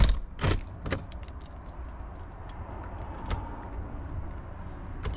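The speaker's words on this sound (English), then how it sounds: "Just lock my door so nobody breaks in." Keys jangle and click as a front door is locked, a few sharp metallic rattles up close at the start followed by lighter clicks, with faint traffic in the background.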